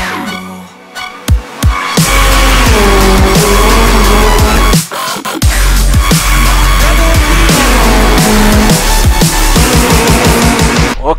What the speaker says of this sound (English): This is the McLaren 570S 2016.